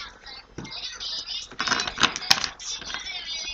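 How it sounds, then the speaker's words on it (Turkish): Tarot cards rustle and slap as they are shuffled and scatter onto a surface, a run of quick papery flicks and taps that swells into a busier burst midway, fairly quiet and close. "Hatta kartlar yerinde bile durmuyor gördüğünüz gibi. Savruluyorlar."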